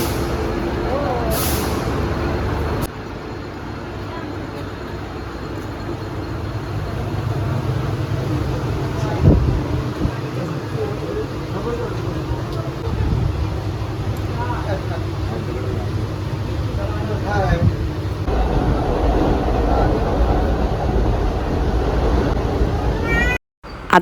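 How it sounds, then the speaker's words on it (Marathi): A Mumbai local train bound for CST waits at Panvel station, with a low rumble of engines, hissing air-brake bursts and squeaky, meow-like metallic squeals, while people talk nearby. "तर ही आमची ट्रेन लागलेली आहे CST"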